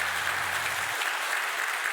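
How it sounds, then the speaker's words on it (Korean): Applause from a church congregation during a Sunday service, a steady broadband patter lasting the whole stretch with faint low tones fading out early. "다시 한번 박수할까요?"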